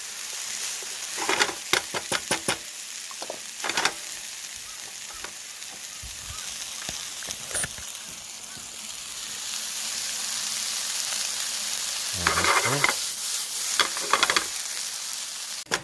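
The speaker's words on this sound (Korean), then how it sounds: "어느 정도 볶아졌다 싶으면 파프리카하고 수박을 그냥 같이 섞어서 넣을게요." Paprika and watermelon stir-fried together in a pan, a steady soft sizzle with scattered clinks and scrapes of stirring throughout.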